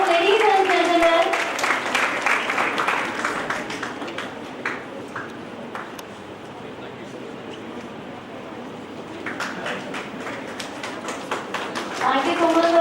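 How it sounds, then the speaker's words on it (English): Applause from a conference audience in a college hall rises and thins across the clip, with a busy patter of clapping that fades in the middle and swells again. Speech and a little music are mixed in. "Give her a huge round of applause, ladies and gentlemen"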